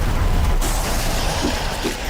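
A deep, rumbling explosion in the video game DayZ, with crackling noise that fades into a sustained roar.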